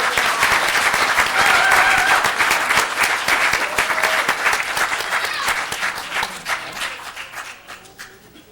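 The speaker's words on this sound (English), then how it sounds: "these guys owe more of an applause than all the other teams" Audience at a council meeting applauding a winning sports team, loud sustained clapping from many hands that slowly thins and fades out near the end, with a voice faintly heard under it.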